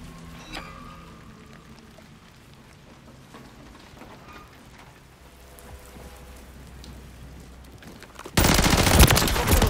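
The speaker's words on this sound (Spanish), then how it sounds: "Bombardeo hostil en el área." Hostile bombardment gunfire in the Call of Duty Modern Warfare 3 map Grime: a low, crackling battlefield rumble with scattered distant pops, ending in a sudden, loud sustained blast of close gunfire.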